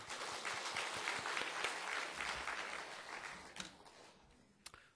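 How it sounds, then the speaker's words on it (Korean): A church congregation claps for its middle and high school youth group, a full burst of many hands applauding at close range that thins out toward the end, with a few last scattered claps. "우리 중고등부 아이들을 위해서 한 번 더 박수합시다."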